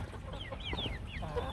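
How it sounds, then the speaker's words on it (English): Backyard chickens cluck and chirp softly in short rising and falling calls over a low outdoor rumble, close by and fairly quiet. "Chickens."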